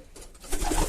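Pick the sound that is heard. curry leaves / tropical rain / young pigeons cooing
young pigeons cooing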